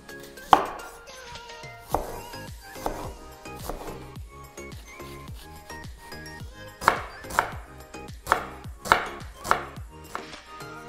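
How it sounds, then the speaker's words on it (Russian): Repeated knife chops on a cutting board while finely chopping an onion, irregular at first, then a run of sharper, evenly spaced strikes close by. "Теперь мелко нарезаем лук."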